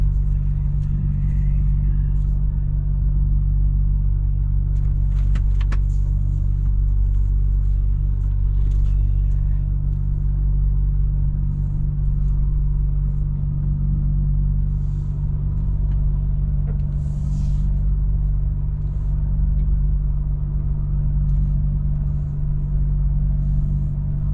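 A heavy DAF truck engine rumbles steadily and loudly throughout, driving along with a constant low drone and no talking.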